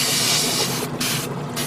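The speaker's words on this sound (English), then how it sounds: "I'm just spraying it with air." An airbrush blowing air onto paint on a Gundam plastic model kit, a close, steady hissing spray with short breaks as the trigger is released.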